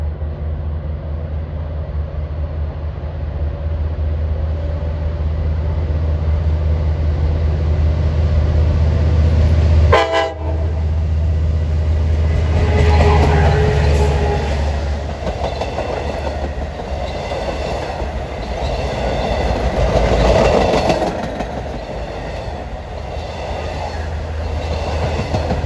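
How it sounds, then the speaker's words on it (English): Commuter train 8052 rolls in eastbound on main line number 2 toward Ronkonkoma, a loud steady rumble with clicking wheels, a brief sharp break near the middle and a rising swell of noise as it passes close by. "approaching at 2:48 is train 8052. He's now heading east on main line number 2 to Ronkonkoma."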